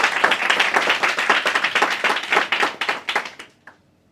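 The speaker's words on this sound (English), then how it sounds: "So, a little round of applause." A short round of audience applause at a tech panel on AI, fairly close and crisp, hand claps thinning and tapering off before fading to silence near the end.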